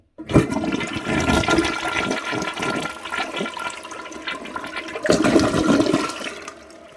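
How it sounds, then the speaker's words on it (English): A 2000s third-generation Mansfield Alto toilet flushes, a strong rush of water surging at once, easing into a steady gurgling flow, then swelling again near the end before fading out. "where a large jet of water comes out. And I'll demonstrate it now."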